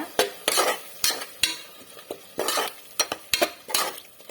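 A spoon scrapes and knocks irregularly against a metal pot while curd is stirred into mutton biryani masala, close and distinct, with a faint sizzle underneath and no speech.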